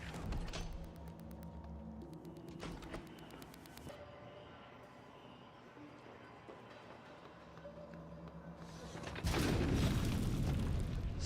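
Flamethrower turrets in the sci-fi video game Prey set off a series of muffled booms over a steady rumbling game soundscape, ending in a loud, dense roaring blast near the close.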